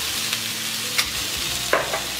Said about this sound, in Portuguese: Vou acrescentar um tomate picadinho sem semente.